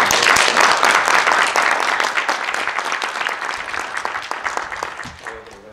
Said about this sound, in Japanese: 拍手をお願いします。